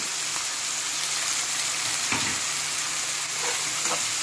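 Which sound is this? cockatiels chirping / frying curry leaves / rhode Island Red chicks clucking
frying curry leaves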